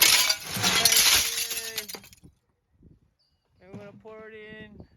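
Hail-damaged glass from a greenhouse cleanup is poured into a bin, a loud burst of shattering and clinking shards for about two seconds, followed by a few faint clinks and then a person talking.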